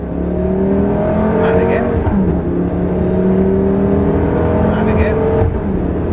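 A Lamborghini Gallardo E-gear accelerates on a track, its engine note climbing steadily through the revs, dipping briefly, then rising again, loud and close, with an instructor talking over it.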